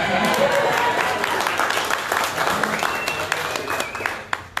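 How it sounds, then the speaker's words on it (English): Audience applause at a 1 Million Cups startup pitch event in Daytona Beach, dense, steady clapping from a room full of people that fills the whole stretch and thins slightly toward the end, with a few sharper claps at the close. "Let's give one more round of applause."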